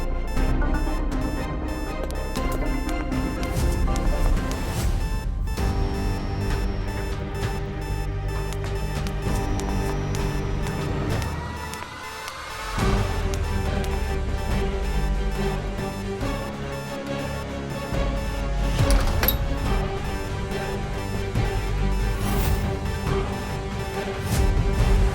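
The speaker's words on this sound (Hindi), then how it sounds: "ये तो हमारी तिजोरी का अलार्म है।" An alarm fitted to a safe in a home rings on for a long time in a TV drama scene. Its loud tones hold steady, fade briefly midway, then return at full strength.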